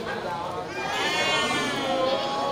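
Goats bleat at a livestock market over a crowded, noisy backdrop of overlapping voices and market chatter, with several animals calling at once.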